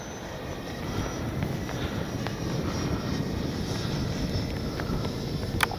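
Freewing 80mm JL-8 RC jet flying straight and level into the wind at full speed, a steady broad ducted-fan rush mixed with wind buffeting, constant and moderately loud.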